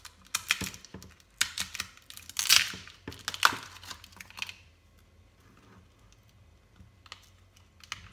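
Close crinkly tearing and peeling sounds as adhesive tape comes off the sides of a plastic lid, in quick bursts, loudest early on, then fading to a few faint clicks and rustles.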